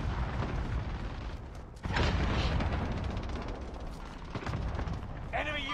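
Cluster strike blasts in a Call of Duty match: a sudden heavy boom near the two-second mark opens a dense wash of rumbling explosions and gunfire that keeps going, with game voice lines and chatter over it.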